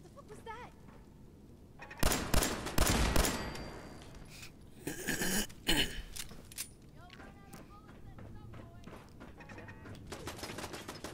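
Bursts of turret gunfire in Fallout 4, rapid loud volleys in two clusters with quieter shots between, with people talking throughout.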